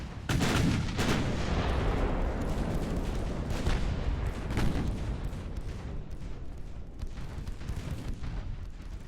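Battleship main guns firing in the naval game Ultimate Admiral: Dreadnoughts, with repeated heavy booms at the start that roll into a long, thundering rumble. No voices are heard.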